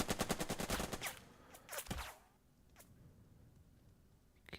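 Rapid bursts of gunfire from the World War strategy game Burden of Command: a fast rattling volley followed by a few scattered shots, then near quiet.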